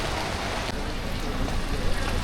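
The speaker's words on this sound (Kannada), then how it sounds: "ಎಕ್ಸ್ಪ್ಲೋರ್ ಮಾಡೋಣ ಅಂದರೆ ಒಳ್ಳೆ ಮಳೆ ಹುಯ್ತೈತೆ, ಫುಲ್ಲು ಮಳೆ." Heavy rain pours down in Phuket, Thailand, a dense, loud, unbroken hiss of downpour drumming nearby.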